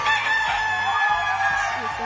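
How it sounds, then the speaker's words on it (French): A rooster crowing sound effect plays on a French television game show, a drawn-out crow heard loudly over a busy studio background. "J'ai entendu le chant du coq."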